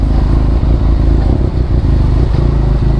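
A Benelli TRK 502x motorcycle engine hums loudly and steadily as the bike rides through deep floodwater, with a low rumble and light clattering throughout.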